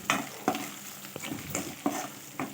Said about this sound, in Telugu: అర స్పూన్ వచ్చేసి పసుపు వేసుకుని ఒకసారి కలుపుకుందాము